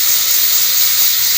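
A pressure cooker holding mutton for nihari lets off steam in a loud, steady, unbroken hiss that lasts the whole moment, with no talk over it.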